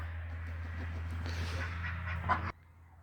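Domestic ducks on a farm quacking and honking in a busy cluster of calls over a steady low hum, growing louder mid-clip before cutting to quieter background.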